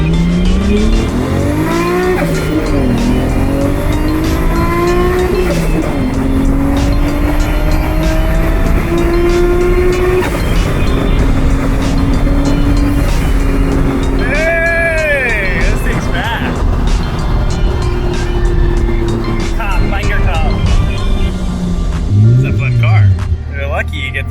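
A slow Nissan 240 with only lap belts drives along steadily, its engine note rising and falling through gear changes, with a brief tire squeal near the end, while people talk over it throughout.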